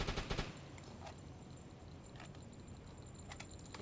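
Rapid bursts of flak gun fire in a WW2 naval video game, a clustered volley at the start followed by scattered sharper shots over a steady rumbling background.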